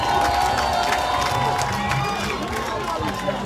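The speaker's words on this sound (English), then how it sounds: "We're gonna clap for our sister Fatima Bio." A crowd at a gathering for First Lady Fatima Bio claps and cheers steadily, a dense, loud wash of applause and voices holding throughout with a few brighter shouts.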